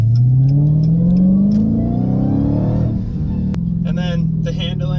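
A Dodge Challenger Hellcat Redeye Widebody accelerates hard, its engine note climbing steadily in a loud, rising roar before easing off, with a voice talking over the end.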